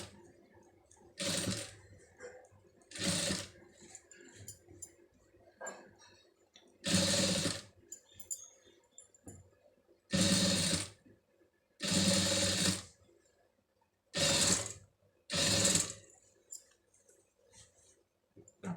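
A sewing machine stitches lace onto a garment neckline in repeated bursts, each a few seconds of rapid mechanical whirring, separated by quiet pauses as the fabric is repositioned, heard close without speech.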